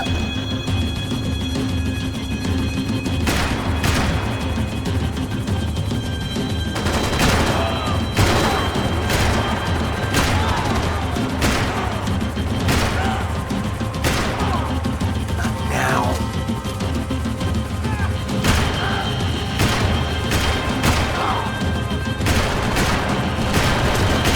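A gunfight in the video game Max Payne 3: loud, rapid bursts of gunfire and sharp impacts go on repeatedly over a constant rumbling backdrop, with occasional shouting voices.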